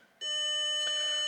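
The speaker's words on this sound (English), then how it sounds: "Beep. Is that because I've got the door open?" Car dashboard warning tone sounding with the door open, a sudden, clear electronic beep holding steady as a bright sustained tone, close and alone.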